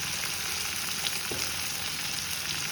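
Raw plantain slices dry-fry with chili powder in a pan, giving a steady, close, even sizzle with a constant crackling hiss and no voices.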